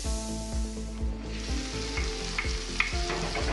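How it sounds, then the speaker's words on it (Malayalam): Small shallots and onions sautéing in a pan for a chicken curry, a loud continuous sizzle broken by a regular rhythm of spatula strokes scraping the pan. "നമ്മുടെ ഉള്ളിയും സവോളയും ഒക്കെ കൂടെ ഒന്നൊരു വഴന്നിട്ടുണ്ട്"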